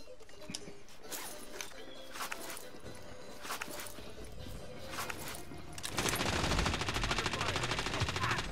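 Sustained automatic gunfire in Call of Duty: Modern Warfare, continuous rapid bursts that swell louder and denser in the final seconds, with the usual game-combat clutter underneath.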